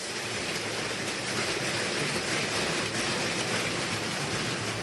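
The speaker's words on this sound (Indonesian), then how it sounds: "hujan es sebesar kerikil berjatuhan dari langit" Hail falling on the slopes of Mount Merapi in Paten village, Dukun district, on a Friday afternoon, a dense, unbroken roaring hiss of pelting ice close by, steady throughout with no voices.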